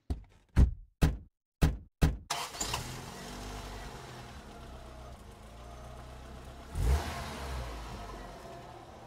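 In a radio play, a car door slams several times in quick succession, then an engine starts and the car revs and drives off toward the police station, the engine fading to a low rumble with a second surge.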